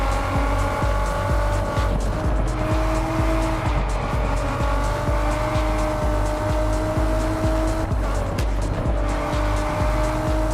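Racing cars in Test Drive Unlimited Solar Crown, including a Camaro, scream at high revs with steady engine drone and repeated tire squeals, loud and continuous throughout.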